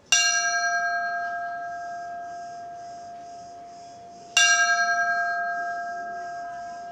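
Two loud church bell strikes, tolling in mourning in Crete, a few seconds apart, each ringing out with a long, slowly fading resonant hum.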